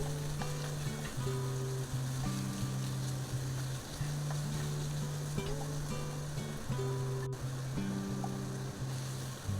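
Carrot, lotus root, baby sweet corn and mangetout stir-fry for a vegetarian Buddha's delight, making a steady close sizzle with occasional stirring clatter. A low tonal hum runs underneath and no one speaks.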